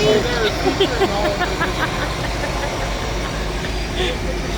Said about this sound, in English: It has the Oliver diesel engine rather than a noisy huge